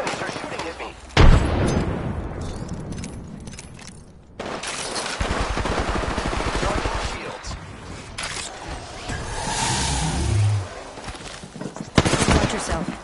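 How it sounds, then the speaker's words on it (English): Gunfire crackles through a team-based battle royale shooter match, bursts of shots and impacts repeating over several seconds amid game effects, with people talking over it. "Sergeant, the enemies are shooting at me."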